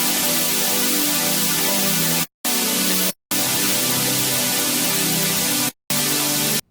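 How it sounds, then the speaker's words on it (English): A plain saw-wave synth bass patch built in Serum 2 plays loud, sustained buzzy notes alone, broken by a few short gaps of silence between phrases. "I'm just like a super simple saw in Serum 2."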